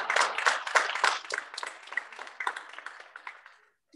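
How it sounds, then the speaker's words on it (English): Audience applause rings out for a group of girl dancers at a Salangai Poojai dance debut, a dense burst of many hands clapping that gradually thins and fades to silence. "Hand of applause for these girls."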